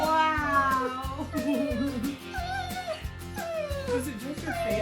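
A house cat meows eagerly as its owner arrives home, a few rising, wavering meows carried over rhythmic background music.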